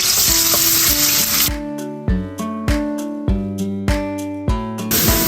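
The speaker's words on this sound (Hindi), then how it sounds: "लहसुन अदरक हमारा फ्राई हो गया।" Garlic-ginger paste sizzles and crackles in hot ghee, loudest at the start and end, with background music playing over the frying in between.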